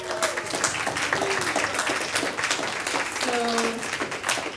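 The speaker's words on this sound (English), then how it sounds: "I did want to take a second for all of us to give a round of applause to Schneems over here" A conference audience at a Ruby on Rails meetup applauds steadily, a dense patter of many hands held at an even level throughout, with a few voices briefly audible over the clapping.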